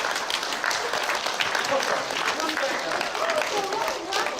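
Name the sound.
applause at a school assembly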